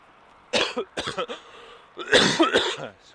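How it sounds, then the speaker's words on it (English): A few sharp coughs come in two bursts, close and fairly loud, with a short pause between them. "excuse me, morning coughs"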